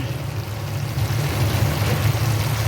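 A pot of salmon ginisa broth bubbles on the stove, a steady close burbling rumble with no voices.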